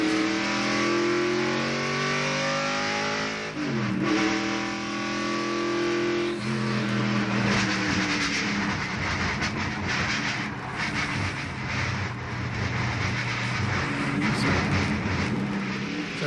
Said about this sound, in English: we told you about Phil Parsons losing the wheel a little bit ago. And here's how it sounds when it happens